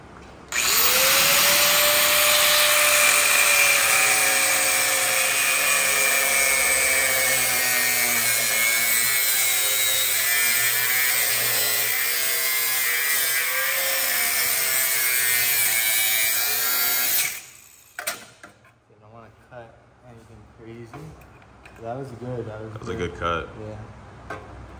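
A power tool cuts through the exhaust of a BMW 540i with a loud, sustained high-pitched grinding whine for about seventeen seconds, then stops abruptly, followed by scattered clanks and nearby talking.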